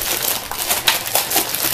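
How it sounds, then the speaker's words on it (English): A plastic bag from a Hot Wheels Monster Jam Triple Blast Arena toy set is torn open and pulled apart, giving close, irregular crinkling and crackling bursts over about two seconds with no talking. "we'll open up this plastic bag. Pull it all apart there."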